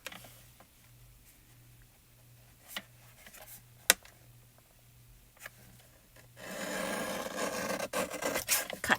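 Paper is cut, first with scattered light snips and rustles, then a longer continuous rasping cut toward the end, close and fairly quiet with no talk.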